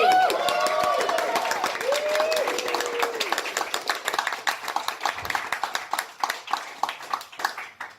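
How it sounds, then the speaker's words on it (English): A comedy club audience at the Verve Comedy Cellar claps and cheers as comedian Emma Roberts is welcomed to the stage, a dense burst of applause thinning to scattered claps while a voice speaks over the start. "Massive round of applause and welcome to the stage, Emma Roberts"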